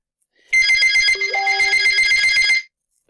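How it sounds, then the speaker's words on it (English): A telephone rings with a steady electronic trill lasting about two seconds, loud and close, with no voices over it and a brief start of another ring at the very end. "the phone rings"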